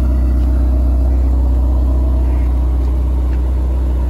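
A sports car engine rumbles low and steady nearby in a street in Saint-Tropez, holding a constant idle with no voices over it.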